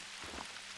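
Rain falls during a storm in the video game Hunter Call of the Wild, a soft, dense hiss of drops on surfaces, faint and continuous for a brief moment.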